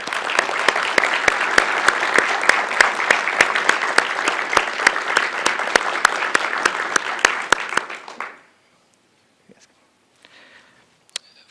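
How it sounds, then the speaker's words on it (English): Audience at a school board meeting breaks into sustained, loud applause with dense clapping for about eight seconds, then stops abruptly, leaving near silence with a couple of faint knocks. "let's give them a hand of applause."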